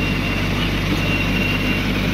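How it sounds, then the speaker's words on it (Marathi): A tractor-driven rotavator tilling soil in a sweet lime orchard where soybean had been sown, a steady, dense low engine drone with constant mechanical churning, close and unbroken. "आता इथं रोटावेटर चालू आहे"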